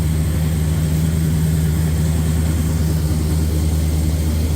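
Supercharged 1955 Chevy engine idling steadily, a deep continuous rumble with a strong low hum, close and loud, with no one talking.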